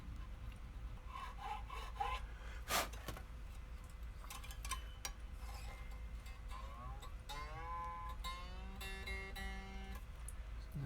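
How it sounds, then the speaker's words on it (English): A file rasps in the nut slot of a 2011 Gibson Les Paul Junior guitar, giving short scraping strokes close up, with brief plucked string tones ringing out near the end. "maybe I can cut the nut slot down a little deeper"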